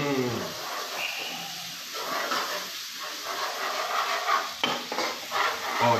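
Garlic and onion frying in a spoonful of oil in a pan, a steady close hiss and sizzle with light stirring clatter throughout.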